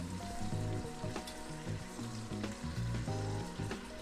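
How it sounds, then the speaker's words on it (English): Beef pot roast searing in a Dutch oven, a loud continuous close sizzle and crackle with bursts of spitting fat throughout, no talking. "we're just gonna let it sear on the other side"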